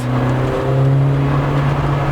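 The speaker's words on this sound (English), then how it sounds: "this car has a wild cam in it of 272, and we'll put our foot down" A Volkswagen Golf Mk1 fitted with a wild 272 cam accelerates, its engine droning in a strong, steady tone that climbs slightly. The engine sounds close and loud, with no talking over it.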